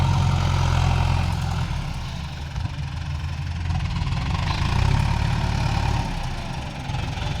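A three-wheeler's engine idles and chugs with a low, rough, knocking rumble close by, alongside a ten-wheeler truck, steady with slight swells and no talking.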